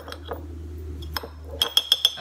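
A spoon stirs and clinks against a glass mixing bowl while ingredients are mixed, with quiet scraping followed by a quick run of four bright, close clinks.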